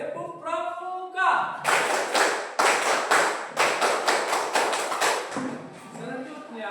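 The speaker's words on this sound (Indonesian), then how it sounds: "Tepuk pramuka." Students perform a scout clap in class, a loud group pattern of sharp unison claps in a rhythmic sequence, preceded by a brief voice.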